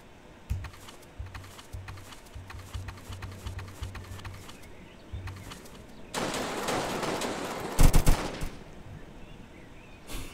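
Rapid bursts of gunfire in the Roblox game Jailbreak, some shots aimed at a car's tires, come as short repeated volleys over a steady game background, then a louder stretch of noise swells near the end.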